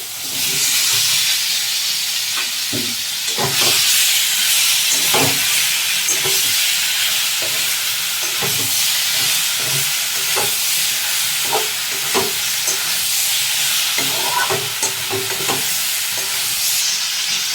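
Raw tomatoes hit a pan of well-fried spiced masala for a small-fish curry, giving a steady close sizzle and hiss with repeated scraping stir strokes throughout, no voices.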